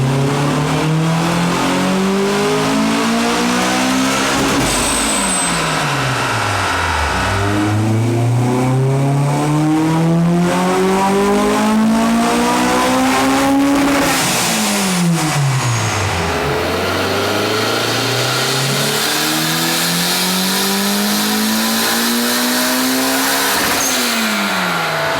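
Turbocharged and supercharged Honda S2000 cars on a dyno rev hard through three long climbing pulls, each dropping off before the next. The engines sound loud and close, with no talk over them.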